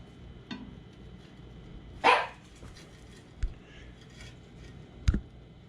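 A dog gives a single sharp bark nearby, followed later by a couple of short, softer yaps against a quiet room background.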